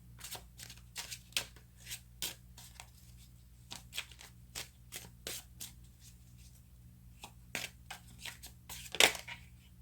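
Tarot cards being shuffled by hand, a quiet, close run of repeated crisp riffling bursts at an irregular rhythm with short pauses between them.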